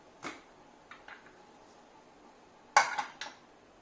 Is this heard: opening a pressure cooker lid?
yes